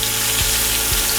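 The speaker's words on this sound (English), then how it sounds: "I really wanna make sure that I get a nice sear" Wagyu picanha sears in a very hot skillet, giving a steady, loud, close-up sizzle with no one speaking.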